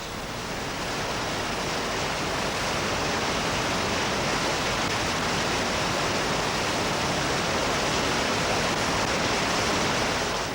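Constant, dense roar of rushing whitewater, loud and unbroken, like churning rapids heard up close.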